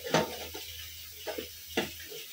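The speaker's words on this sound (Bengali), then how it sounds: "সাজানো হয়ে গেছে, এখন ঢাকনা দিয়ে ঢেকে দেব।" A lid is set over a pan of pointed gourd cooking in mustard sauce, giving three short clattering knocks spaced apart over a low, steady kitchen hum.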